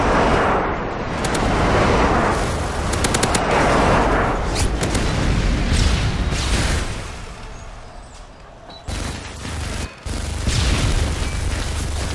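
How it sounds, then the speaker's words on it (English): Airstrike explosions from Call of Duty: Modern Warfare 2 on the Favela map in Domination mode: a dense, loud stretch of booming blasts and rumbling impacts, with gunfire crackling throughout and brief gaps near the end. "Friendly airstrike inbound."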